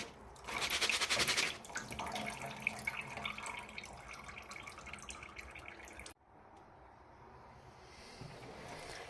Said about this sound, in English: I finished rinsing them to the best of my ability.